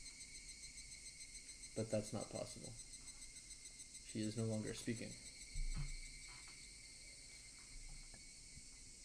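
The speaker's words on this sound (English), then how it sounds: "Only the cry of the cicadas remained annoyingly loud" Cicadas in the Higurashi visual novel game keep up a steady high-pitched drone throughout, heard beneath a narrating voice.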